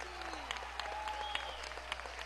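Audience applause at the opening of an international theatre festival, an even wash of clapping with distinct nearby claps, fairly faint, with a sliding tone and voices beneath it.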